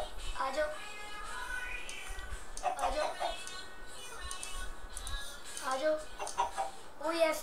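Chickens cluck in the video game Minecraft, with short, scattered clucks and squawks at moderate volume, mixed in with someone talking throughout.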